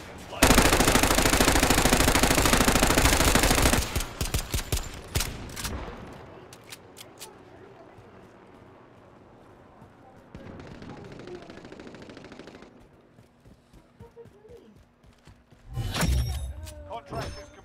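Loud sustained bursts of automatic gunfire in a shooting video game open the scene, followed by quieter game sounds and scattered shots, with talk over parts of it.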